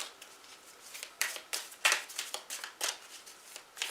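A deck of tarot cards is shuffled by hand, a quiet, close series of soft riffling bursts repeating in an uneven rhythm.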